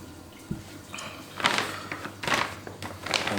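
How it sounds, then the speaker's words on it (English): Water tipped out of an RODI filter canister during servicing, a few irregular splashing pours and drips close by, with quiet clunks of the plastic canister between them. "we'll tip out the water that was in this canister."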